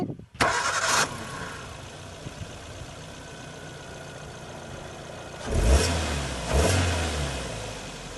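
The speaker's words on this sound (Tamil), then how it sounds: "இன்ஜின் சவுண்ட் மட்டும் வண்டி ஸ்டார்ட் பண்ணலாங்க. இன்ஜின் சவுண்ட் மட்டும் கேளுங்க." A petrol Maruti Suzuki Swift VXI engine cranks and catches, idles steadily for several seconds, then revs up twice in short bursts, close by with no talking.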